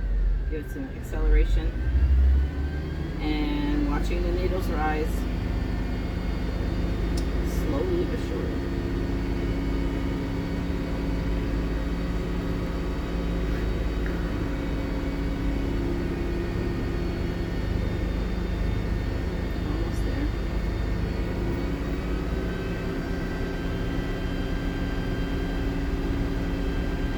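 A school bus engine idles with a steady low rumble and is revved with the accelerator to build air pressure, holding a deep drone throughout while a person talks over it nearby.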